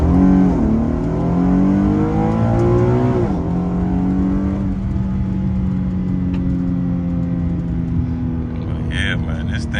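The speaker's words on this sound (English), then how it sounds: "All right, this is a first gear pull, y'all" A tuned Infiniti G37 pulls hard in first gear with traction control on, its engine note climbing loudly, dropping at a shift, then droning on from inside the cabin while someone talks over it.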